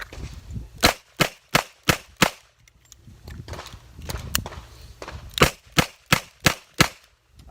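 Sharp, loud shots from a Ruger GP100 Match Champion 10mm revolver fire in two quick strings of about five evenly spaced shots each, with a pause between the strings.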